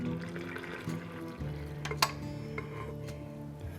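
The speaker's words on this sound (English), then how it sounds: "So I'm just going to pour the whole thing in." Warm water, 552 grams, is poured into pizza dough dry ingredients in a mixer bowl, a soft steady liquid pour with low kitchen background hum and one sharp clink partway through.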